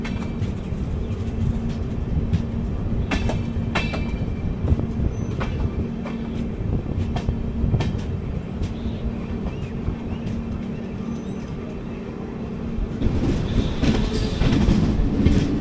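The 06035 Summer Special, an AC Economy train, runs toward Kollam station with a loud continuous rumble, rhythmic clickety-clack of wheels over rail joints, and rising squeal and hiss near the end.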